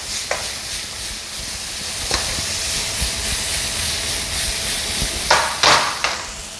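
Filet mignon sizzling and frying in a pan of melted butter, a steady broadband hiss with a few sharper spits and crackles near the end, close and fairly loud with no talking.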